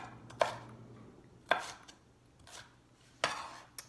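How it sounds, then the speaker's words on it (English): Knife chopping bell peppers of several colours for ratatouille: three sharp, separate cuts against a board, spaced about a second apart, close and clear with no talking. "Just cutting up my peppers."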